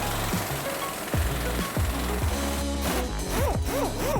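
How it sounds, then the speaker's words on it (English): A power tool with a 21mm socket spins out the front lower control arm bolt on a 2007-20 Jeep Wrangler JK 4-door during a Fabtech lift kit install, giving loud rattling, hammering bursts with rising and falling whines. "Use a 21mm socket and get that bolt removed."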